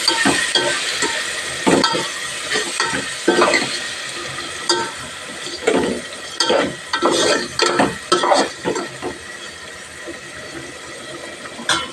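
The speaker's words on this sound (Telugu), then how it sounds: "పసుపు కొంచెం కలుపుకున్నామండి ఓకేనా ఫ్రెండ్స్ చూడండి ఇలా" A spoon stirs turmeric into chicken biryani masala frying in a pan, with irregular scraping strokes over a steady sizzle. The strokes come close and loud at first, then thin out and fade.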